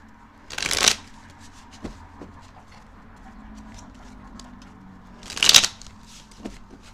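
Two quick bursts of tarot cards being riffle-shuffled, close and crisp, each lasting under half a second and separated by a few seconds of quiet with soft handling noises.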